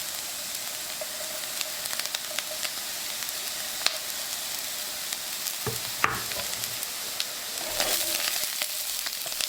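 Potatoes with ginger and cilantro fry in a pan, giving a continuous close crackling sizzle with a few sharp utensil clicks and scrapes partway through, no talking.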